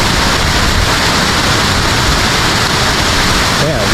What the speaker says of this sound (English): So here we are at the top of Kuang Si waterfall.